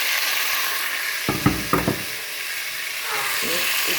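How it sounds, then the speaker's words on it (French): Sizzling hiss of onions and tomatoes poured into a hot cooking pot, with a few brief clatters and stirring sounds in the middle, while steady frying noise continues throughout. "maintenant je vais verser les oignons. Oignons et tomates aussi dans ma marmite"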